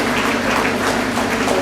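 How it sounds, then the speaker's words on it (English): Audience applause fills a conference hall at a scientific conference and book launch, a dense, steady patter of many hands clapping close by for a couple of seconds. "I think we should clap at this stage."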